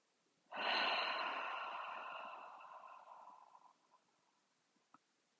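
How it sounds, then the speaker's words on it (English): One long exhale after a deep breath, close and soft, a breathy rush that starts abruptly and fades gradually over about three seconds, followed by a couple of faint clicks in quiet. "Deep inhale, long exhale."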